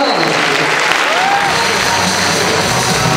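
Loud, dense applause from a large student crowd at a spring student festival, cheering the medical faculty, sustained and steady throughout with a few voices mixed into the roar.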